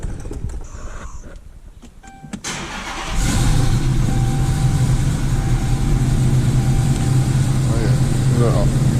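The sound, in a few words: Chrysler 300 engine idling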